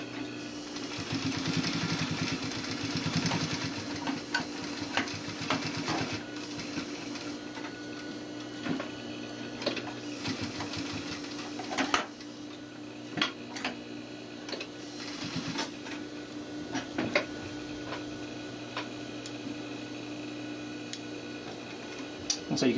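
A sewing machine edge-stitches around a welt pocket, giving a steady mechanical whir with rapid ticking and scattered clicks and knocks that run for over twenty seconds, no speech.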